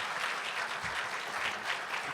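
Steady audience applause at a health equity forum keynote, a warm sustained wash of clapping from a large crowd, even and continuous throughout.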